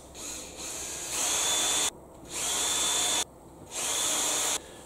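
A power drill whirs in three bursts, drilling holes in a knife handle, each spinning up and holding steady before cutting off, with brief quiet gaps between; close and fairly loud, no talking.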